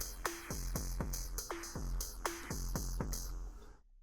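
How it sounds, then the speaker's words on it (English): A quick synthesizer drum beat built in Ableton's session view: punchy electronic kicks and snappy hits with pitched tonal tails, repeating in a steady rhythmic loop, close and dry, before cutting off at the end. "those are the synthesizer drums"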